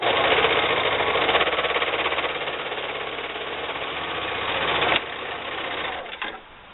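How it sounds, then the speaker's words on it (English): A serger stitches a seam on fabric for a drawstring backpack, giving a steady, close, rapid mechanical whir that runs continuously, stops briefly near the five-second mark, then winds down. "And just serge."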